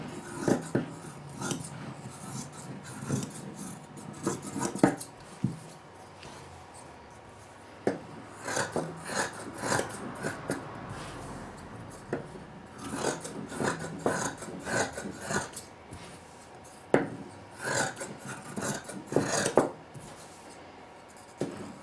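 Scissors rasp and snip repeatedly through layered fabric being cut out for a cloth pad, a steady series of close cutting and rubbing strokes with short pauses and no talking.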